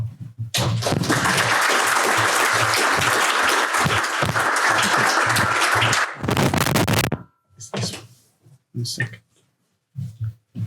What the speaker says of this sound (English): It's always good to get a round of applause at the beginning